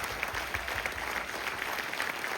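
A crowd claps steadily for a couple celebrating their diamond anniversary at a function in Visakhapatnam, a dense, fairly faint patter of many hands with no talking over it.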